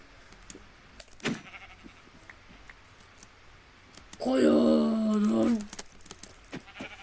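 A sheep bleats in Minecraft, one loud drawn-out bleat in the middle, with faint clicks and brief game noises around it.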